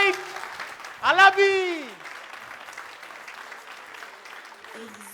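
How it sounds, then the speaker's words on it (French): Studio audience at a television variety show breaking into applause, heard as a steady patter of clapping under a loud voice that calls out and holds a long note. "Je vais vous demander de faire le max d'applaudissements pour ce garçon."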